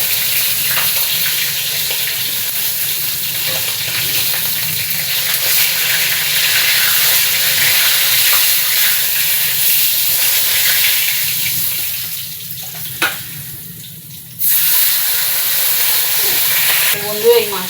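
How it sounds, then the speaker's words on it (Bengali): Tilapia fillets sizzle and crackle in hot oil in a pan, a continuous close frying hiss that briefly drops away as pieces are lifted out, then resumes. "আমার মাছ ভাজা হয়ে গেছে পুরো লাল লাল করে"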